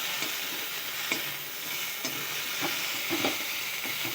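Kuche fish (mud eel) frying in a pan, a steady soft sizzle with occasional brief stirring scrapes and pops, moderately close and quiet with no voices.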